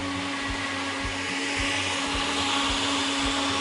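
A blender lightly whips a kefir sauce in a kitchen, a loud, close, steady motor whir with a faint rhythmic pulsing throughout.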